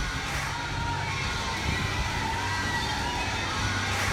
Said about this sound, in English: I've never heard so much synchronized shouting.